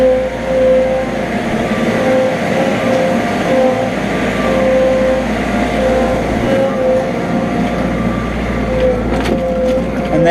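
Diesel engine of a Ransomes ride-on hydrostatic lawn mower pulling away, a loud, steady low rumble and drone throughout, heard close by with no speech.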